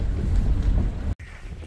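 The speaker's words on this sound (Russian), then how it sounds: "Опять ветер дует, выдувает море." Strong wind off the sea buffets loudly, a rough low roar that cuts out abruptly near the end before a quieter gust returns.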